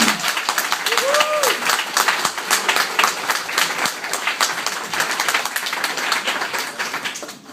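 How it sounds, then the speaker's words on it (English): An audience at a startup weekend event in Sofia claps for the local sponsors, a sustained round of applause that runs the whole stretch, with a voice speaking over it. "make sure to really give the biggest round of applause right now, guys"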